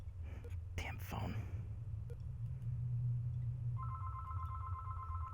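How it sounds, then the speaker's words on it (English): Telephone in the Mabinogi video game ringing as a steady electronic trill in the last second and a half, faint, after a low rumbling ambience with brief whispery voice sounds near the start. "Damn phone."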